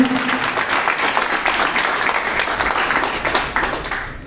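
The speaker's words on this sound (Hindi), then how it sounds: "तालियों से।" Clapping from an audience at an NGO foundation day celebration, a lively continuous patter of many hands that runs throughout with slight swells, alone with no talk over it.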